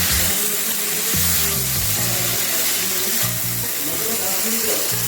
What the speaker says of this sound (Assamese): মই এনেকৈ হাই ফ্লেমত এতিয়া ভাজি আছোঁ